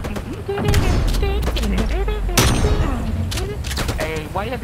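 Gunfire in Call of Duty: Black Ops Cold War, heard as dense, loud rapid shots and thuds running continuously through the moment, with several voices talking over the shooting.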